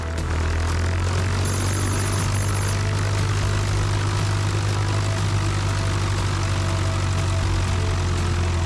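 A Piper Warrior single-engine propeller plane makes its takeoff roll with a loud, steady droning engine heard close up from inside the cabin, unbroken throughout.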